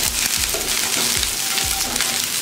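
Onion, garlic and tamarind sauté in a hot pan for a chutney, giving a loud, steady sizzle close by with a few stirring scrapes and no voices.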